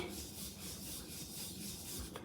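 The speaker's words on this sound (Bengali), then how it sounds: "পরোটাগুলো এখন বেলে নিচ্ছি" Stuffed parathas are rolled out with a rolling pin, giving a soft, continuous rubbing and rasping of the pin against the dough on a board, quiet and close by.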